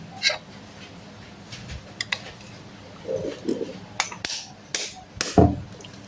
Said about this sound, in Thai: ตอกไข่จ้ะ